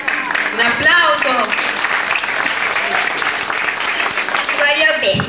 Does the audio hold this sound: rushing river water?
no